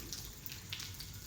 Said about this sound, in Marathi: याच पाण्याचा आवाज लांबून सुद्धा येतो.